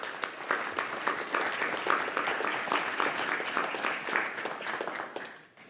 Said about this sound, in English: Can we give our Youth Council a round of applause for their work?